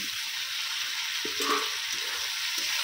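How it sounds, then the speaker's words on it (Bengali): Fried potatoes get stirred into spices and tomato paste in a pan, giving a soft, steady sizzle with occasional scraping stirs, close by and without talk. "আলুটাও মশলার সঙ্গে ভালো করে একটু কষিয়ে নেব।"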